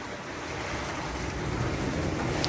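A sailboat moves upwind at about 8 knots on flat sea near San Cristobal in the Galapagos, with a steady rush of water and wind noise and no talk.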